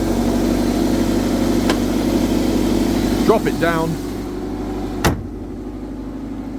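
A Toyota MR2 with a repaired exhaust manifold idles with a steady low engine hum while someone talks over it, with a couple of brief clicks and knocks.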